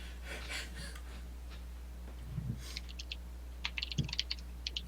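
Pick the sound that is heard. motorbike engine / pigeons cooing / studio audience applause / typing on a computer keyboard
typing on a computer keyboard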